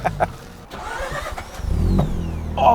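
A rebuilt rotary engine hot-starts with a brief crank, then catches and rises into a rough, revving idle close by, with no talking over it.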